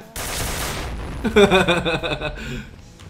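Gunfire from the video game Point Blank, a rapid burst of shots followed by a clanging ringing tail, loud and close and lasting a couple of seconds.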